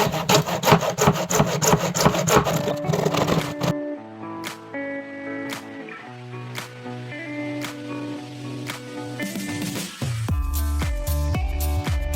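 A hand saw cuts apart the plastic tub of a Whirlpool washing machine in quick, rasping back-and-forth strokes for a few seconds. Sustained tonal ringing sounds follow the sawing.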